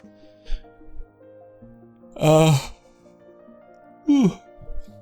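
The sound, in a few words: yawn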